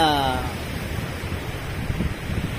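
Steady cold wind rushing with a soft wash of surf underneath at a beach, continuous and fairly loud, with a brief tonal sound at the very start.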